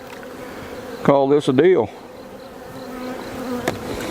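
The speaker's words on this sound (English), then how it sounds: "Now I got to make sure I get the bees off of the top of it here" Honey bees buzz steadily around a hive during a cutout being settled into a nucleus hive, a continuous close hum under a short burst of speech.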